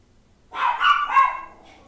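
Brief cluster of a dog's barks, a few quick yelps close together, rising out of silence and fading within about a second.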